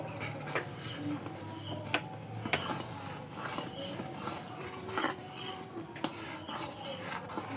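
Palm fruit puree cooks in a wok over a gas flame, with repeated soft scrapes and light clinks of a stirring utensil against the metal over a steady background hiss.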